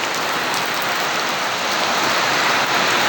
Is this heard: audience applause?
no